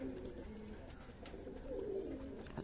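A pigeon coos on the roof of a house in a poor neighbourhood, low soft calls repeating steadily at moderate distance against a constant background hum.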